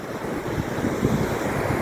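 Sea waves wash steadily onto Kovalam beach, a continuous loud roar of surf with wind noise buffeting the microphone and no voices.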